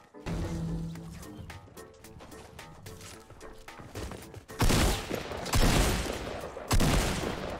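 Gunfire in the battle game Fortnite, a run of loud sharp bursts in the second half after quieter game music and effects, with several heavy shots close together.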